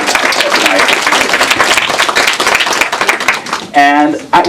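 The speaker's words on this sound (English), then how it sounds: "So let's give them a round of applause." Audience applause at a bookstore author event, dense steady clapping from a room full of people lasting several seconds, then breaking off as a voice begins speaking near the end.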